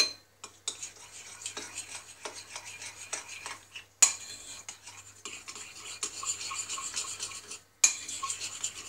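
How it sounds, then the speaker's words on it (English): A spoon stirs caramel into carrot cake batter in a bowl, giving soft, repeated scraping and clinking strokes, close and fairly quiet, with a few sharper knocks against the side. "I'm going to give that a good mix."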